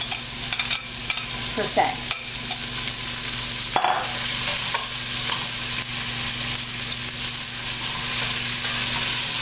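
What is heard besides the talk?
onions frying and being stirred in a pan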